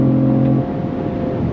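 Cadillac CT5-V sport sedan, 2025 model, engine droning steadily inside the cabin under acceleration, a sustained low hum that eases slightly partway through, with engine sound piped in through the speakers.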